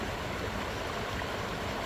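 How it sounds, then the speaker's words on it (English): A river flows in a steady, close, unbroken rush of water with no voices. "like this river that I happen to sit by"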